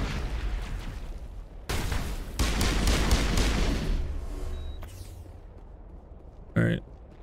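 Gunfire in the sci-fi shooter Mass Effect 1 comes as a sustained loud barrage of shots and impacts, then tapers off into quieter combat noise, with a voice talking over part of it.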